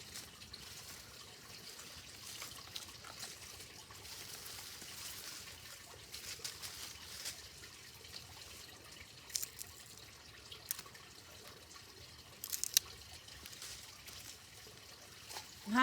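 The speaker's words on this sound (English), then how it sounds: "I could use the garden hose as well because it's not frozen yet" Water from a garden hose rinses freshly harvested celery outdoors, a steady soft splashing and trickling flow that runs throughout at low level, with a few brief louder splashes near the end.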